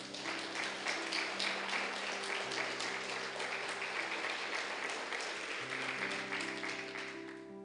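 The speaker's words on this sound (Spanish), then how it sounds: "Denle un aplauso al Señor." A church congregation claps for the Lord after a sermon, sustained and fairly loud applause filling the room, with a steady organ-like tone held underneath.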